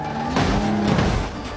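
A car drifting on an empty country road, its engine droning steadily with a rising rev and broadband tire noise swelling mid-way, close and fairly loud throughout.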